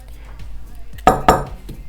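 Two sharp metallic clinks of a small teaspoon against a dish, close by, about a quarter second apart, with quiet background.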